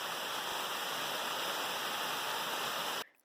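A waterfall in the mountains of Isère pours with a loud, steady, hissing rush that continues unbroken, then cuts off abruptly at the end.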